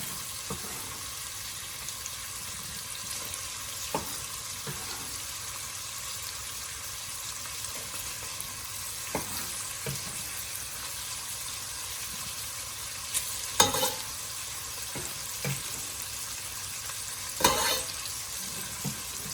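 Onion frying in a pan with bacon makes a low, steady sizzle that runs throughout. Occasional clicks and scrapes of a utensil stirring come at irregular intervals, a few of them louder, with no talking.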